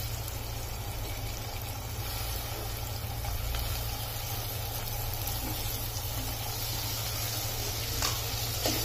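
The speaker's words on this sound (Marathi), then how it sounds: "कांदा आणि टोमॅटो छान परतून घेऊया" Onion and chopped tomato sauté in a generous splash of oil for dal khichada, giving a steady, even sizzle with faint bubbling that holds at one level throughout.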